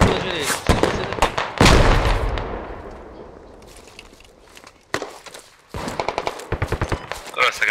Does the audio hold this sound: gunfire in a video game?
yes